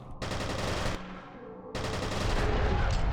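Gunfire in the F.E.A.R. video game: loud, dense bursts of automatic weapon fire with a brief drop in the middle before the shooting resumes and builds in intensity until the end.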